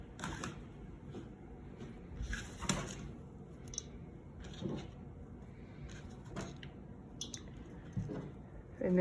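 Sharp cheddar and sliced jalapeños being folded into sourdough dough by hand, giving soft, irregular squishing and slapping sounds at a quiet, close level, with no talking.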